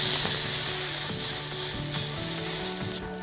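A pork loin steak sizzles and fries in a pan with a close, steady crackle and hiss, along with faint stirring and scraping and no speech.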